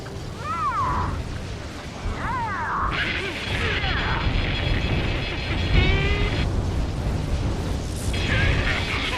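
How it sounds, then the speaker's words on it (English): A rail cannon in the Ace Combat 7 flight game goes up in a rumbling chain of explosions, heavy booms layered under jet roar and warning tones, loud and continuous throughout. "Confirming explosions. The rail cannon's been destroyed."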